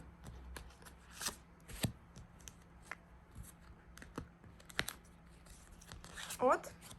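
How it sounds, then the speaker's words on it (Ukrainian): Tarot cards slid and pulled from a deck at a reading table, giving soft papery rustles and a few sharp flicks spread through the moment, with a brief louder crinkly burst near the end, close and quiet, while a voice speaks over it. "З цього ми витягнемо аж три карти"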